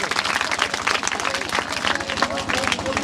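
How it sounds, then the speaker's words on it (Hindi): Schoolchildren at a government high school in Bhuli clap together loudly and continuously, a dense, close burst of many hands with some crowd noise mixed in. "बेटा सब एक साथ जोरदार तालियां बनाएंगे।"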